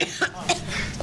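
A person coughs a few short times in quick succession, close and moderately loud, in an indoor setting.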